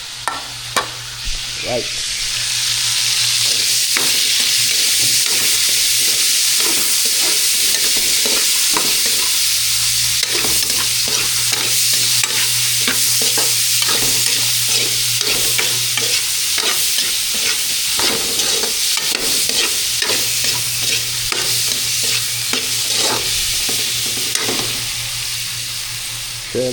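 Mung beans or black beans sauté in a hot pan with a loud, steady sizzle, broken by frequent scraping and clacking of stirring. A voice speaks a single brief word.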